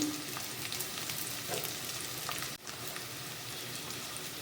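Onions with salt and ground spices for brinjal posto sizzle steadily in a hot pan, a dense continuous frying hiss with a brief dip partway through.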